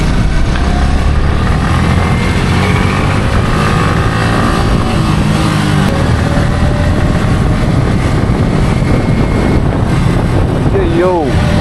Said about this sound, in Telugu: ఏంది ఇది ట్రాఫిక్? అబ్బా పోయేకి లేదు, వచ్చేకి లేదు, ఫుల్ జాము.